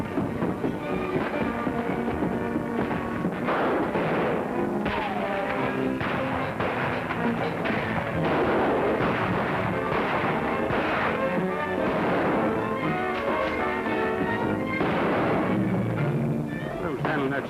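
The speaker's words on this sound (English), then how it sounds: "Who's handling that shotgun and shooting wild?" A shotgun fires wildly in a 1946 western scene, with sharp blasts breaking through galloping horses, hoofbeats and busy background action while voices talk over the commotion.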